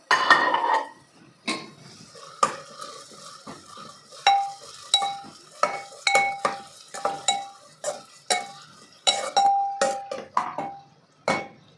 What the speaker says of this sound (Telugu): ఇప్పుడు ఇందులో ఆనియన్స్, పచ్చిమిర్చి, మెంతం కూర, ఈ మూడు చక్కగా ఇప్పుడు మనము ఫ్రై చేసుకోవాలి